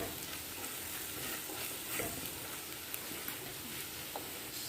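Onions and chili powder sautéing in a pan for a ripe kudampuli curry, giving a dense, continuous sizzle with faint occasional stirring clicks, close and steady throughout.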